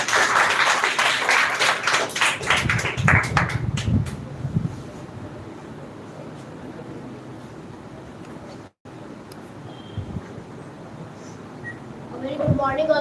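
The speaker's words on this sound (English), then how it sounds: "Mr. Aram, clap for him" An audience claps for a young speaker at a women's education grand finale event, a brief burst of applause at the start that fades out, followed by a quiet room with faint murmurs.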